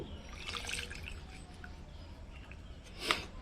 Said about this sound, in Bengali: পুরো ভর্তি করে আমরা জলটা দিয়ে দেব